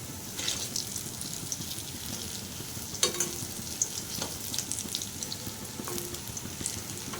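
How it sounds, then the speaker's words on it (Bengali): Food frying in a pan, a continuous close crackling sizzle with scattered sharp pops and a few utensil clicks, no talking. "আর এক পিঠ ভাজা হবে।"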